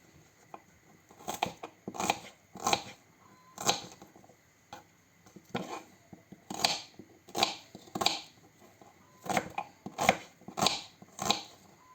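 A knife chops an onion on a board, sharp irregular cuts in short bursts with brief pauses between them, close up and without speech.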